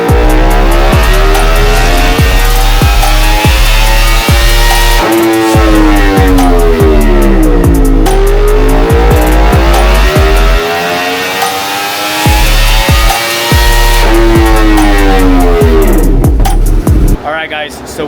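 A 2024 Yamaha R1 sport bike with a stock air filter and base map, run on a dynamometer: loud, continuous engine note rising and falling through repeated rev sweeps, with a brief drop near the end.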